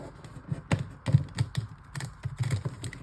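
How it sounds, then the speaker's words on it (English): New, stiff tarot cards being shuffled, giving a rapid series of crisp clicking and riffling flutters in uneven bursts, close by and fairly quiet. "These cards are so hard for me to shuffle."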